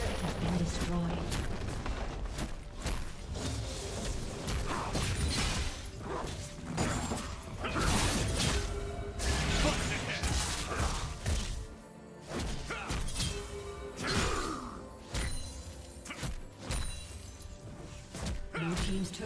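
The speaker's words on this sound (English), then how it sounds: "Blue team's turret has been destroyed" A turret is destroyed in League of Legends, with loud shattering crashes and thuds amid dense game effects and music, while a voice talks over the action.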